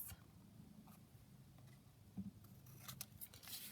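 Scissors snipping paper triangles for craft tags, faint quick cuts and light rustling of paper in a quiet room.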